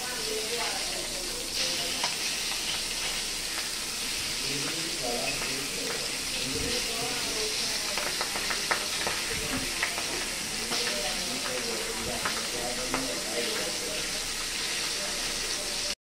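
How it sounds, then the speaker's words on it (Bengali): Pieces of rohu fish fry in oil in a pan, a loud steady sizzle with hissing and occasional stirring scrapes, close up and continuous throughout. "সিমের বিচি রান্না করার জন্য মাছ ভাজা হচ্ছে।"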